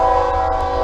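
A train rumbling past nearby, a loud sustained tonal drone with a steady low roar, heard briefly and alone.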